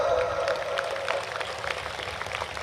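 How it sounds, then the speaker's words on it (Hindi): An audience claps together at a talk by Avadh Ojha on youth and politics, a dense crackle of many hands that starts loud and thins slightly near the end. "कम से कम आप ताली तो बजाओ"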